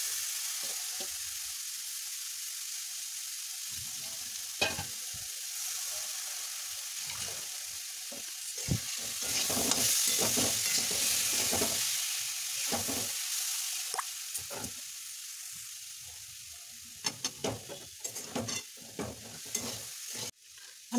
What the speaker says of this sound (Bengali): আমি এবার ভালোভাবে চিড়াটা মিশিয়ে দিচ্ছি।